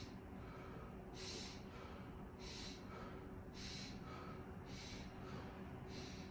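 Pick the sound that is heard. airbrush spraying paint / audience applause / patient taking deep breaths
patient taking deep breaths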